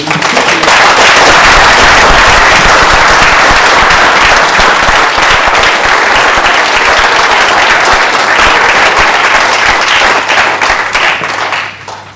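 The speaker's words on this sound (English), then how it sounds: "a round of applause for all the mentors" Loud, sustained applause from a large crowd at the 2010 100 Black Men of London graduation, dense clapping for the mentors that holds strong for about eleven seconds before tapering off.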